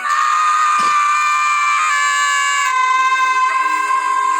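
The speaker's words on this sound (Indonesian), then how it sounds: "mereka pun berteriak bersama-sama" Loud, sustained high-pitched screaming from several voices at once, steady and piercing throughout with no talk.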